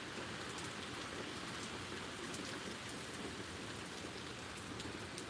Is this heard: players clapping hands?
no